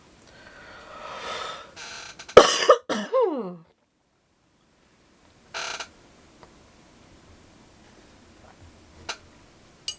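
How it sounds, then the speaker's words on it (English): A person coughs and clears their throat in a quiet room, a cluster of harsh coughs in the opening seconds, then a short cough later and faint ticks near the end. "I'm really sorry about all the coughing."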